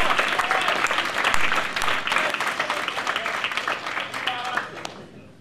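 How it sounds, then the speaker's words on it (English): An audience at a Shakespeare class event applauds Clara Bennett with sustained, dense clapping that holds steady for several seconds before tapering off, with a few voices mixed in. "Round of applause,"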